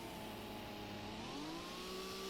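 A Dodge Viper racing car's engine in Gran Turismo, a steady rising engine tone with a pitch sweep as it accelerates, fairly faint with no talk over it.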